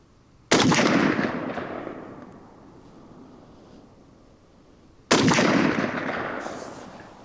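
Two sharp, loud rifle shots from a Zastava ZPAP M70 AK-47 with walnut furniture, fired outdoors in bright sunlight, each cracking out and then rolling into a long fading echo, spaced a few seconds apart with nothing between.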